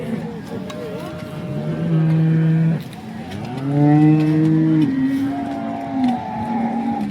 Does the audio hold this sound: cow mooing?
yes